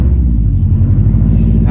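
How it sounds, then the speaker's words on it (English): A loud Subaru WRX engine rumbles steadily and close by, a deep throbbing drone with no voices. "This car is so fucking loud."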